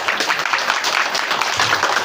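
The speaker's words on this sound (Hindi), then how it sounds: "शंकर जी भाई साहब के लिए जोरदार ताली बजाएं।" Audience applause at a school speech event in Rajsamand, a dense steady wash of clapping for about two seconds, fairly loud and close.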